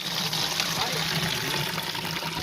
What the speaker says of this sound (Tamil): இலையில இருந்து தண்ணி ஊற்றுது